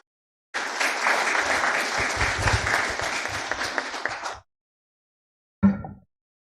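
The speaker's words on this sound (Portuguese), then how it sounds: "solicitamos uma salva de palmas" Audience applause after a lecture at an agriculture and environment secretaries' meeting, a steady burst of many hands clapping for about four seconds that stops abruptly, followed by a short separate sound.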